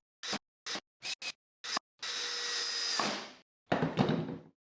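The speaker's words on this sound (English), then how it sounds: "Then I drilled the holes for the 1/4-inch bolts I'll be using." Power drill boring holes for 1/4-inch bolts in a DIY storage bin cabinet, starting with five short bursts, then one sustained whine of about a second, and ending in a rougher final burst; nearby and fairly loud, with no talking.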